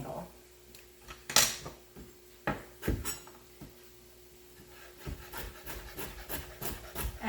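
A knife slices carrots on the bias into thin angled pieces for a chickpea tagine, making crisp, irregular taps on a cutting board, fairly quiet and close, with gaps between cuts.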